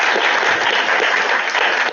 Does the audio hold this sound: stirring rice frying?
no